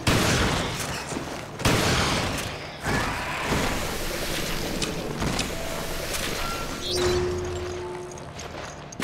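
Gunshots in the survival horror game Resident Evil: Revelations, a few sharp cracks spaced apart over a rumbling, watery ambience, moderately loud with no voices.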